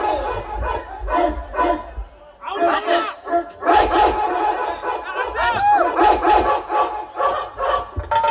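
Dogs roaming a neighbourhood lane bark in repeated loud bursts, mixed with nearby shouting voices and crowd noise.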